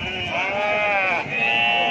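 Sheep at a busy livestock market bleat loudly and close by, one long wavering bleat followed by another.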